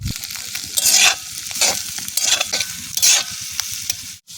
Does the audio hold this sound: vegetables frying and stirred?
yes